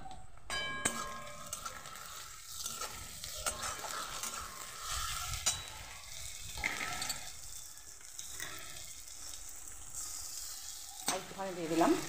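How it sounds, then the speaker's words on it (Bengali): Ginger garlic paste sizzles steadily in a pan of fried onions, stirred now and then with occasional metal clanks, for a mutton liver curry. "পেঁয়াজটা ভাজা হয়ে গেছে, দিয়ে দেব আদা রসুনের পেস্ট।"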